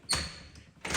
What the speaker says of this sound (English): these doors are so loud